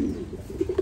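A 21-day-old pigeon chick coos softly in a few low, throaty pulses, close by and alone, with the last two notes slightly louder.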